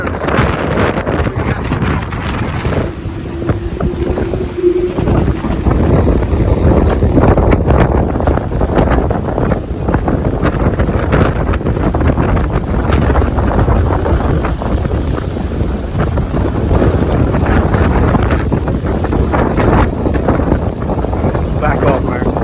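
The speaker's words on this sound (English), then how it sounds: "The sea is also starting to come over the wall here." Rough, roaring stormy sea crashes over a harbour wall as gusting wind buffets the microphone, with heavy water surging steadily and people talking faintly underneath.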